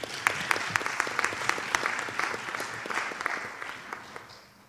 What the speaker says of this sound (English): Please welcome them with a big applause.